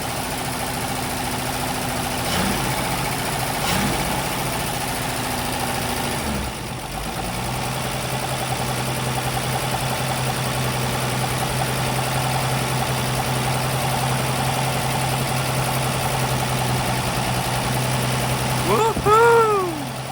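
A Ford Falcon engine idles steadily with a newly installed fuel pump, a close, even low hum and rumble throughout, with a few short thumps early on and someone talking briefly near the end.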